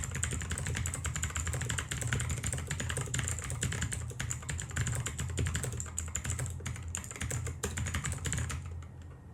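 Rapid, continuous typing on an AULA F3261 mechanical keyboard, heard up close as dense clicky keystrokes with no pauses.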